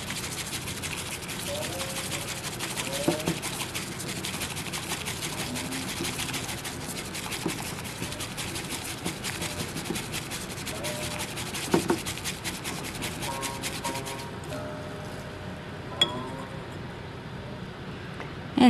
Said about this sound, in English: when you whisk it, use the wrist of your arm and then whisk it in, ideally in M letters